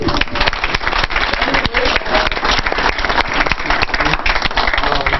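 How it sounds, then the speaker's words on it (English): Audience at a Startup Grind Madison evening event at 100 State applauding, a dense, steady roar of many hands clapping close and loud for several seconds with no talk. "So everyone clap it up."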